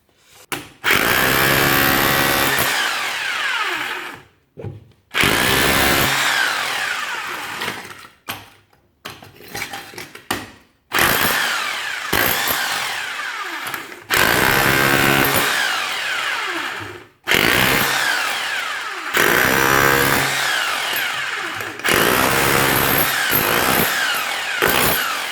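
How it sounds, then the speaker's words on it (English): Parkside PBH 1050 B2, a 1050 watt hammer drill, breaking material in loud, harsh bursts of a few seconds each with short pauses between them, hammering at close range with no voices. "The smaller one, the 1050 watt."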